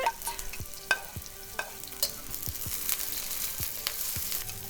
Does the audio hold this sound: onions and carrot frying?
yes